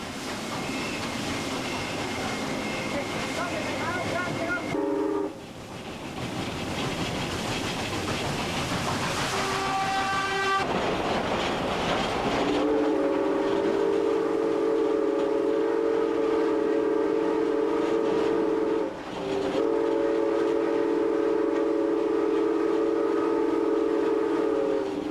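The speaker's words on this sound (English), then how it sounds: "Another crowd is waiting to welcome the train at Geelong, where we climb aboard 711 to see how this Hudson performs." Oil-fired Hudson steam locomotive 711 working at speed near Geelong, a loud steady chuffing roar with strong sustained whistle tones sounding repeatedly over the running noise, close by throughout.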